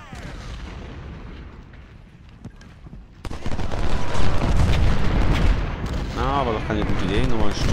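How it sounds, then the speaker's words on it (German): Several cannons in Ultimate General: Civil War open fire together on one target, a heavy rumbling barrage of booms after a quieter start, with a voice speaking over the end. "Kanonen, ihr müsst euch alle einig sein, dass wir auf dasselbe Ziel schießen."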